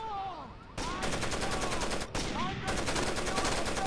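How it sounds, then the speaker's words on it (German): Rapid automatic gunfire in the Rainbow Six Vegas shooter game, loud close bursts of sustained fire with brief gaps between them. "Hör mal auf zu schießen."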